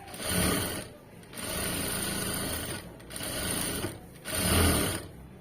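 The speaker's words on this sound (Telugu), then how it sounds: "ఇలా ఫోలింగ్ చేసేసుకుని ఇంకో స్టిచ్ వేసేయండి ఇక్కడ" A sewing machine stitches thread piping in runs of rapid mechanical whirring, three bursts separated by short pauses, close and fairly loud with no voices.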